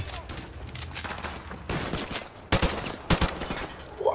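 Gunfire in the video game Modern Warfare Remastered: sharp, loud shots and short bursts crack over a busy battlefield din, with a heavy report near 2.5 seconds and another around 3.1 seconds.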